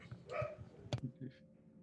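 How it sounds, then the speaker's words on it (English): A dog gives a few short barks and whimpers at moderate distance, irregular and fairly faint, with no talk over it. "I heard your dog. It won't stop."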